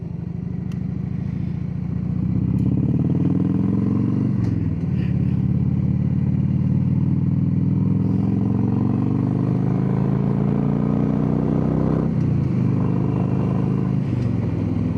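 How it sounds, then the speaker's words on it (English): Harley-Davidson motorcycle engine running close by, a loud, steady low rumble with gentle rises and dips in revs over about fifteen seconds, no voices. "It sounds good. It's a Harley, so what can you expect?"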